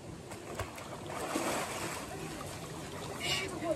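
Water splashes as people dip into a holy pond at Muktinath, Nepal, a steady wet sloshing with several louder splashes, heard close up alongside faint voices.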